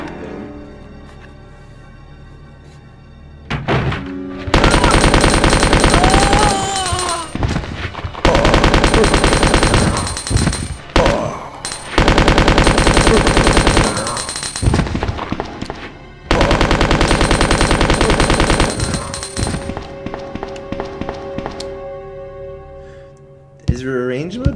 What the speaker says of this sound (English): I can get through this game so fast with unlimited machine gun.